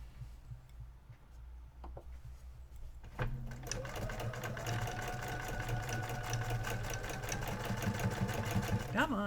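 A sewing machine runs steadily while machine quilting over a seam, its rapid needle chatter starting after a quiet moment and continuing at an even clip, up close and loud, with a low steady hum beneath.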